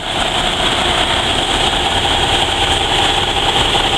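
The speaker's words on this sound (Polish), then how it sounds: "to jest ciężarówka" A heavy military truck engine idles steadily and loudly, a continuous low rumble with a droning hum, no voices.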